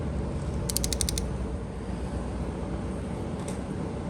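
A ratcheting torque wrench tightens bolts to about 15 to 18 foot-pounds on a team van, giving a short burst of crisp ratchet clicks early on over a steady, loud background hiss.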